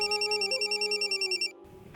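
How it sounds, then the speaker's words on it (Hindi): A telephone rings indoors in a drama scene, a loud electronic bell trilling in rapid repeated bursts for about a second and a half before cutting off, leaving a faint room hum. "पुप्पो का फोन है"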